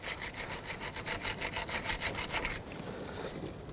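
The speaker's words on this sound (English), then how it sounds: "I'm actually gonna take a wire brush to it and clean it up" A wire brush scrubs corrosion off a starter wire on a 2013-2020 Nissan Pathfinder, giving about a dozen quick, rhythmic rasping strokes close up, then stopping abruptly into a quieter scrape.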